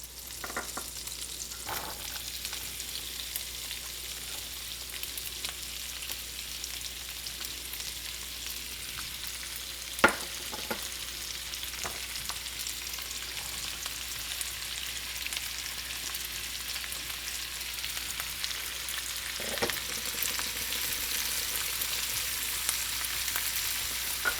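Celery, onion, garlic and apple sauté quietly in a pan for stuffing, a soft continuous sizzle with a few faint stirring clicks and scrapes, with no talk.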